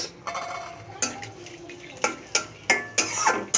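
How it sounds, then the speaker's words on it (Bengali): Garlic cloves, cardamom and spices stirred in mustard oil in a pan, a few sharp metal scrapes and clinks of a spoon at irregular intervals over a faint sizzle, close and without voices. "নেড়ে নেব"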